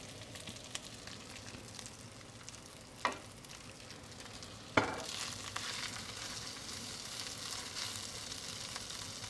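Cooked rice stir-frying in olive oil in a hot pan, a quiet steady sizzle with two sharp scraping clatters partway through, after which the frying grows slightly louder and continues alone.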